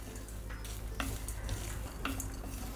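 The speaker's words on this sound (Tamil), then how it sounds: "கொஞ்சம் நல்லா ட்ரை ஆகிற வரைக்கும் வறுத்துருங்க" Ingredients dry-roast in a pan as a spoon stirs them, with soft scraping strokes and light clinks repeating about once a second over a quiet background.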